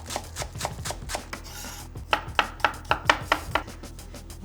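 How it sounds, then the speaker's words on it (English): Spring onions and garlic are sliced with a kitchen knife on a cutting board. Crisp, close knife strikes come at first loosely, then in a quick, even run of sharp taps. "I'm just going to slice up some spring onions and garlic."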